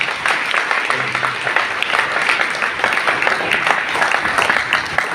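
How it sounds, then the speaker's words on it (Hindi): Loud, sustained audience applause at a farewell gathering for a reverend, dense clapping filling the room steadily throughout, with a short low hum briefly underneath. "ताली जोरदार बजाइए।"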